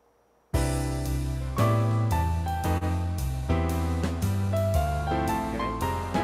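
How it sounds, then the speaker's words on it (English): Jazz Club piano accompaniment style on an EX/EY keyboard starts abruptly and plays a full, steady piano-led groove with chord changes and bass notes, loud and close, with no talking. "Jazz club is now a piano style."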